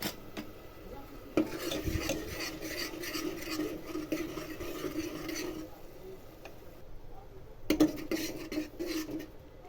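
Coconut paste stirred and sautéed in oil in a metal pan for a quick chicken curry, with a steady scraping and rubbing of a spoon against the pan and two louder clanks near the start and end.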